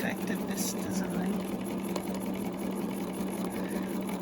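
A sewing machine runs continuously, stitching a ribbon candy pattern in free-motion quilting with a ruler, with a steady whirring hum at close range.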